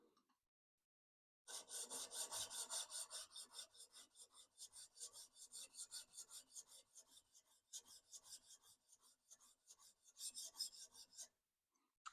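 Plane blade from a Taylor Toolworks No. 6 fore plane rubbed on a sharpening hone, a close, rapid, rhythmic gritty rasping of repeated strokes that runs for about ten seconds and then stops.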